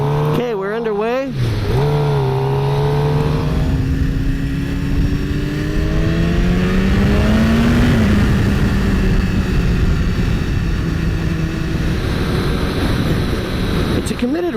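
A 2016 Suzuki GSX-R 750 sport bike rides underway, its engine droning steadily and close, with pitch rising and falling through gear changes and revs.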